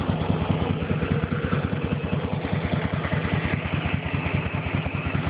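Harley-Davidson police motorcycle idling close by, a steady low thumping engine pulse with fast regular beats and mechanical clatter, continuous and even throughout with no talk.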